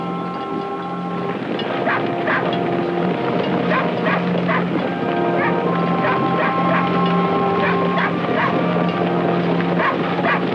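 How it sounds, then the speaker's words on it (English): Several herding dogs bark in scattered bursts while moving a big reindeer herd, over a steady low engine drone, the barks coming repeatedly at moderate distance across the whole stretch. "the dogs, including the three-legged one, get the big herd moving"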